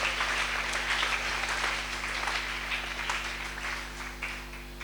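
A church congregation applauds in a sustained wash of clapping that stays dense and fairly loud, fading slightly toward the end over a low steady electrical hum.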